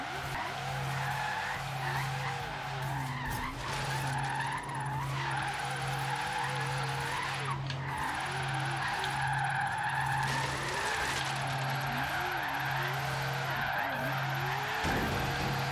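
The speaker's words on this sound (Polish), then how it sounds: "Patrzcie, to był drift synchroniczny." A Ford Falcon XR8 drifts in the video game Forza Horizon 3, its tires squealing and skidding in long wavering sweeps over a steady engine drone, with the pitch rising and falling as the car slides through the turns.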